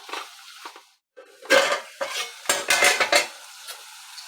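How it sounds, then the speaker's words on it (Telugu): A spoon scrapes and clatters against a pan while a cluster bean and tomato curry is stirred, in several bursts of close metallic scraping with brief pauses, no talking. "కలుపుకోవాలి."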